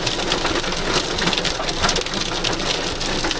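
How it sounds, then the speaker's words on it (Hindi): Heavy rain and hail pour down hard during a violent storm in a Himachal Pradesh village, a dense, steady, loud roar of drumming impacts with no pauses. "बहुत तेज बारिश है।"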